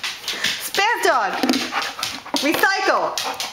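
A dog named Bailey whimpers and yips in high, rising and falling whines, two clustered bursts close by, with panting and a person's voice mixed in.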